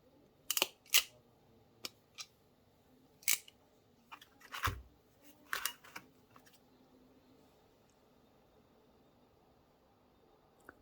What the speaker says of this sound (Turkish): Ondan sonra sıkıyorum.